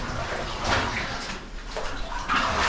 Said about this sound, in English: Can't be getting too far from the waterfall.